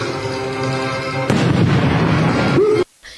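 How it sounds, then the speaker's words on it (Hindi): An explosive charge blows open a hospital door, a loud sudden boom bursting over steady background noise and rumbling on for over a second before cutting off abruptly. "अस्पताल के दरवाजे को खास तरीके से विस्फोटक लगाकर उड़ा दिया गया।"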